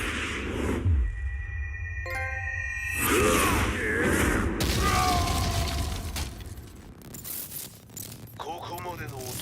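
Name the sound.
explosion in Tekken 7 video game cutscene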